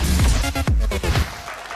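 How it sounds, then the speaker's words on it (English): An audience at a televised singing competition breaks into loud, dense applause and cheering that fills the whole short stretch at a steady level. "Another big round of applause for Jacob there."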